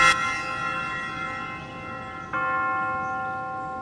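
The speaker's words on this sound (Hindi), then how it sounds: "दफन करने के समय की जाने वाली विधि के वक्त घंटारव किया जाता है, जिसे अंग्रेजी में नेल कहते हैं।" A church bell tolls a death knell for a burial: one deep, resonant strike at the start rings out and slowly decays, then a second strike follows a couple of seconds later, loud and alone.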